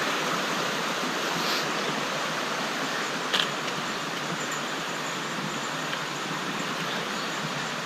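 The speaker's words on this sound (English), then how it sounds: "it's a really amazing waterfall that I could see off into the distance" A waterfall roars as a constant, broad rushing wash, steady and unbroken for several seconds, with no voices over it.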